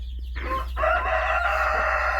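A brooding hen with newly hatched chicks on a farm gives a short clucking call over a steady low hum, brief and fairly close.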